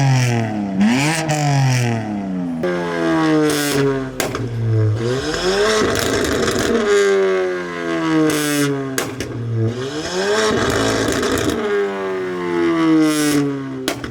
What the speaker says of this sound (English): more people are revving